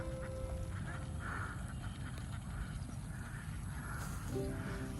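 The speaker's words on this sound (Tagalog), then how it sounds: "Grabe kadagan itik." Ducks quack repeatedly at a moderate distance beside a creek, their calls rising over a steady outdoor background hiss.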